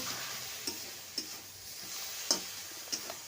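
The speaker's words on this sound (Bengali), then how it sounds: "দেখুন যতবার নাড়া হচ্ছে ততবার কিন্তু পেঁয়াজ কালিটা একদম অল্প হয়ে আসছে" A spoon stirs onion-stalk curry with a little tomato in a frying pan over a soft, steady sizzle, with a few distinct scraping taps against the pan, fairly quiet and close.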